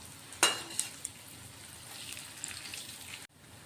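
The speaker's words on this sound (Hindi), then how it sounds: "अब इन बड़ों को हम एक बार कलछी से पलट लेते हैं।" Dahi vada fritters frying in hot oil and turned with a ladle, one sharp metallic clink early, then a continuous hissing bubble of oil that cuts off abruptly near the end.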